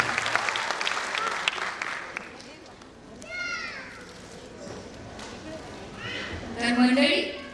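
A crowd at a school annual day claps in a short burst at the start, and the applause fades as a voice begins speaking over faint background noise.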